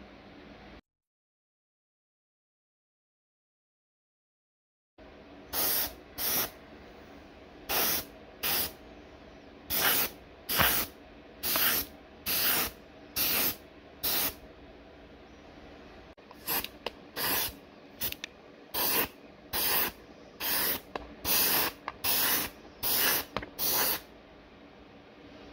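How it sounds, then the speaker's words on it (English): Aerosol chrome spray paint hisses onto a Colt Python revolver in a quick series of short, loud bursts with brief pauses between, close to the microphone after a few seconds of silence. "So now it's time to put on the chrome paint."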